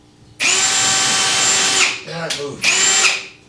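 A power drill drives a drywall screw during a garage mini split install, two loud sustained whining bursts separated by a short pause and brief speech.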